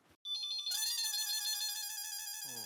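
A telephone rings in a sitcom household scene, a bright, melodic electronic ringtone that sounds loud and close and holds steadily for about two seconds with no voices over it.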